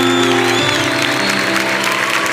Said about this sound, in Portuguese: Eu queria que vocês aplaudissem São João Paulo II